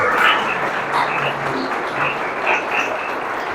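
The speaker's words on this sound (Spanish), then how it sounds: "denle un aplauso al Señor" A church congregation applauds in a steady, continuous wash of clapping that fills the hall at an even level from start to finish.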